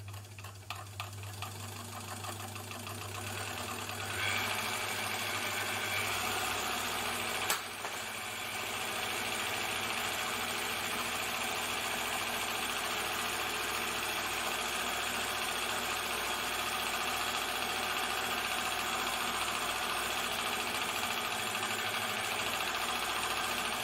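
An Elna Supermatic sewing machine stitching: a steady, close mechanical whir and rhythmic needle chatter runs continuously, with a low motor hum and a brief clunk partway through.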